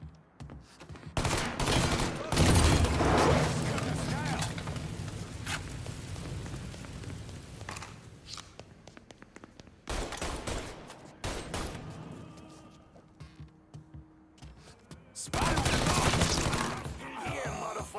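Gunfire in the video game Mafia 3, with loud bursts of rapid shots in several clusters separated by quieter stretches of mechanical sounds, and a voice calling out between the volleys.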